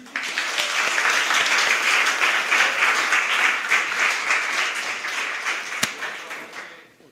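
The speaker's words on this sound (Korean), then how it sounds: "그러면 첫 번째 뜨거운 박수로" Warm audience applause in a classroom-style session, a steady burst of many hands clapping that holds for several seconds, then tapers off near the end.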